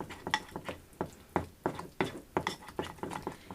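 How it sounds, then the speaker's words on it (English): A utensil stirs butter into melted white chocolate in a bowl, making a run of quiet, regular scraping clinks roughly twice a second. "And just stir that around until the butter is mixed in with the white chocolate."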